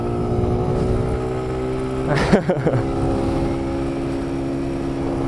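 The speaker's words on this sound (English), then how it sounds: "this bike has got a little bit more punch" CFMoto Leader 150cc motorcycle engine holding a steady droning tone, with a brief sharp burst of rattling and clunking near the middle before the hum carries on, heard up close.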